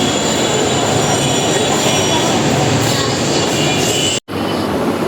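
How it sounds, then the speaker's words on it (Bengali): A metro train pulls into a station with loud continuous rumble and squealing wheels, steady throughout with a brief dropout near the end. "চলে আসে আমাদের মেট্রো,"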